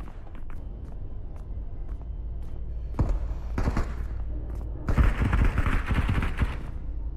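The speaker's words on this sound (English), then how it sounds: "Lots of shooting." Video game gunfire in a match of Klobbed shooting: scattered sharp shots early, then heavier bursts of rapid fire around the middle and a dense, loud volley near the end over a steady low rumble.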